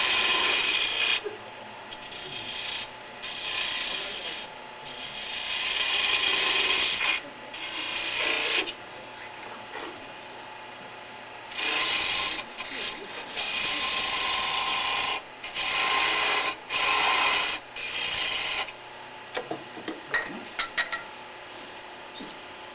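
A woodturning gouge rounds off a small wooden ornament spinning on a lathe. Irregular bursts of cutting chatter and scraping come and go, loud and close, with short quiet gaps between them.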